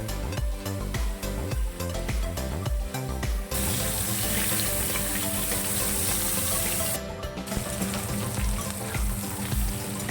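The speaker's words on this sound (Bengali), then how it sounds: "তারপর ভালো করে ভেজে নেব।" Cauliflower fries in oil with turmeric, giving a loud, continuous sizzling hiss with some rhythmic clattering in the first few seconds, and no voices.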